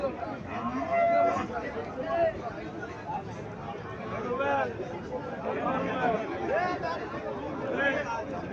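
A golden-coloured Indian Haryana cow at a village cattle market moos several times, near and fairly loud, over a steady babble of people talking around it.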